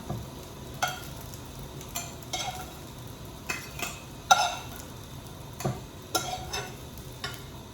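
Rice frying in a pan on a home stove for dinner: a soft, steady sizzle under repeated sharp scrapes and clinks of a spatula against the pan at irregular intervals, close by, no talking.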